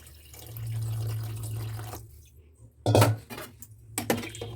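Water pours steadily into a cooking pot for a couple of seconds, followed by metallic clanks and knocks of the pot and utensils, close and moderately loud with no speech.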